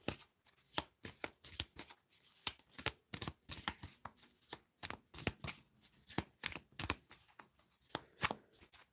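Tarot cards are shuffled and drawn in a steady run of crisp, close riffling snaps and slaps, repeating irregularly for several seconds with no talking.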